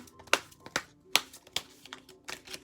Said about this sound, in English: These cards are so hard to shuffle, guys. They're huge.